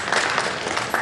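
An audience claps together in a continuous burst of applause at a Nigerian live television event, dense and steady for about a second with no talking over it.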